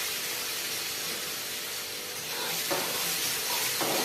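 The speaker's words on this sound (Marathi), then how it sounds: "2 चमचा तेल, मोहरी, लसूण पेस्ट टाकायची" Garlic paste frying in a couple of spoonfuls of hot oil with mustard seeds, giving a loud, steady, close sizzle and hiss that swells slightly toward the end.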